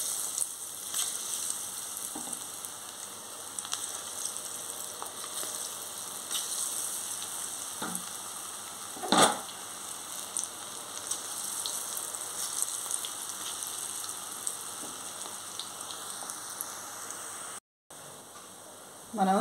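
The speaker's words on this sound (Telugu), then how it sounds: "డీప్ ఫ్రైకి ఆయిల్ పెట్టుకున్నాను. ఇప్పుడు మనం ఇది పకోడీలాగా చిన్న చిన్నగా వేసేసుకోవాలి." Small pieces of pakodi batter made without gram flour deep-fry in hot oil, giving a steady, crackling sizzle with scattered louder pops and an occasional light clink of a utensil.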